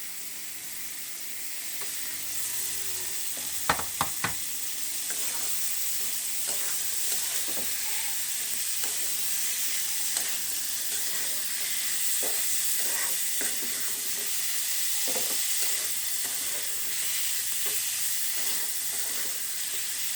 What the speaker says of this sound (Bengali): যেহেতু কাঁঠালের বিচিটা একটু সেদ্ধ হতে সময় লাগে, এটা আগে দিয়ে আমি ভালোভাবে কষাবো।